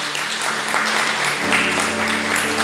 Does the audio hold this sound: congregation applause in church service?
yes